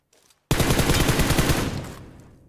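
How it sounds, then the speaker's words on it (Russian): Automatic gunfire in the mobile battle-royale game PUBG Mobile: a dense burst of rapid, evenly spaced shots lasting about a second and a half, then a fading tail with no talk over it. "сейчас далеко кто-то стреляет"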